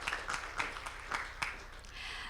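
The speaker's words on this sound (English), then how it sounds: "Right, big round of applause to We Predict." Applause at a startup pitch competition final comes across as a modest spread of clapping, fairly distant and soft, with a few louder clustered bursts before it thins into background hum.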